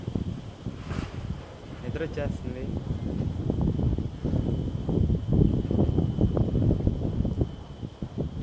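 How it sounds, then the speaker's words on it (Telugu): Cold wind blows across a hilltop near wind power plants outside Tirumala, heard as a steady broadband rush and mic buffeting beneath someone talking throughout. "చల్లటి గాలి వస్తూ ఉంటే భలే ఉంది."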